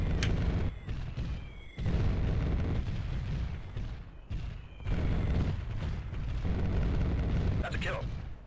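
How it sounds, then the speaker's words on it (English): Artillery strike explosions in the helicopter combat game Comanche Gold: long, heavy rolling booms and rumbling blasts that swell and fade in successive waves, loud and dense, with brief quieter gaps between bursts. "Let's go for another artillery strike over there."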